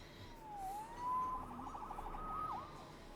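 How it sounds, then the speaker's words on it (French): A faint, distant police siren in the video game Marvel's Spider-Man wails and warbles through a brief stretch of low background noise. "Sauvé par les sirènes."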